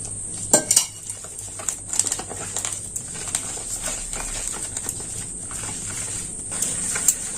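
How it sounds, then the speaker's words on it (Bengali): Flour batter seasoned with black cumin, turmeric and salt is mixed with water in a bowl, giving repeated close clinks and scraping stirring strokes at an uneven rhythm, with no talk. "এবার এটা আমি জল দিয়ে একটা বেটার তৈরি করে নেব"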